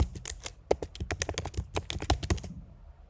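Fast, uneven keystrokes on a computer keyboard while CSS code is typed, a close, dense run of clicks with brief pauses that stops about half a second before the end.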